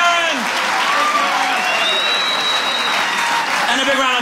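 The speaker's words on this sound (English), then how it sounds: "Big round of applause for Aaron!" A large comedy show audience in Kansas City claps and cheers loudly and steadily for several seconds, a thick wash of applause filling the room.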